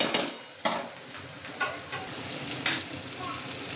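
Red chili powder frying with dried fish in a pan, a steady crackling sizzle punctuated by occasional scrapes and knocks of a stirring spoon, close and fairly loud with no talking.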